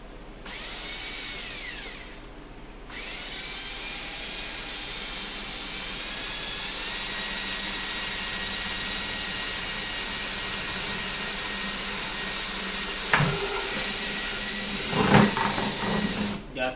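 A power drill whines steadily for a long stretch at close range, boring out a hole in a five-gallon water filter container for a spigot, pausing briefly early on, with a few knocks and scrapes near the end.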